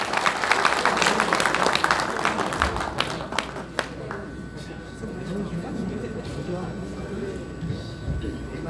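Audience applause at a football association president's inauguration ceremony and football night in Ansan, a fairly faint clapping patter at the start that fades under someone talking, with room murmur continuing.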